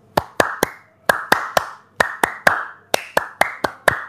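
Sharp hand claps ring out close and dry in quick bursts of two or three, pausing briefly between groups, with no voices over them.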